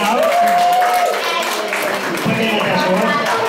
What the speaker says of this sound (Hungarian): Nagy tapsot kérünk Majának!